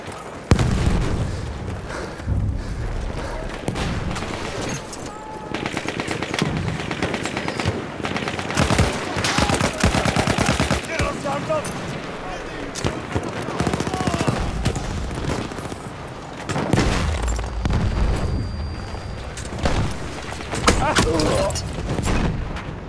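Gunfire in the video game Battlefield 1 on a desert Conquest map, with sustained machine-gun bursts, scattered shots and occasional booming explosions, loud and nearly continuous, with someone talking over it.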